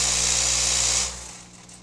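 Weighing and filling machine running with a loud, steady high whir that winds down after about a second, close and with no voices.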